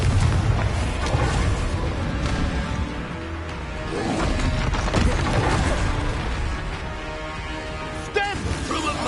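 Confringo blasting curse explosions from Hogwarts Legacy combat on PS5, a dense, loud wash of booms, whooshes and crashes that continues for the whole stretch, with voices shouting over the battle.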